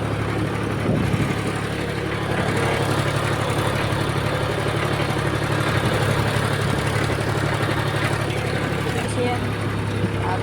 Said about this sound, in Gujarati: આપણે આવી ગયા છીએ ટ્રેક્ટરની ઉપર